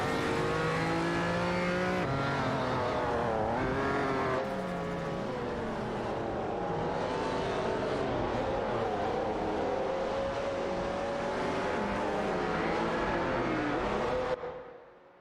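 Three Pagani Zonda C12 race cars battling on a track in a racing video game, their engines a continuous loud, rising and falling roar with gear changes, fading abruptly at the end.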